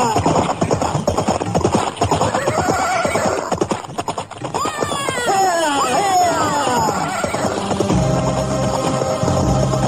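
Horses whinny loudly again and again over fast galloping hooves, close and intense, in a Javanese period drama.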